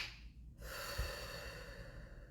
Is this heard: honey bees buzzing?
no